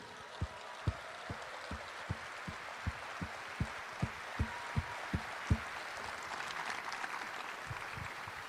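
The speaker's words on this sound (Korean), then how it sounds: "추미애, 김두관, 박용진, 최문순, 양승조, 이광재 후보님께 뜨거운 감사의 박수 부탁드립니다" Rhythmic clapping from a crowd at a Democratic Party presidential campaign launch ceremony in Korea, steady unison beats under a broad wash of applause that swells toward the end.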